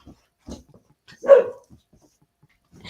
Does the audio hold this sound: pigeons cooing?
no